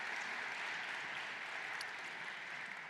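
Audience applause at the All Peoples Celebration, a dense, steady wash of clapping from a crowd that holds even throughout, without any voices.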